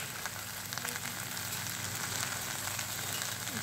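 Okra (bhindi) frying in a pan gives a soft, continuous sizzle with faint crackles as chopped onion cooks in, quiet and steady throughout with no voices.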